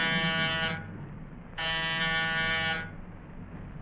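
Apartment door buzzer pressed twice, each a harsh electric drone of just over a second, with a brief gap between presses and low background hum.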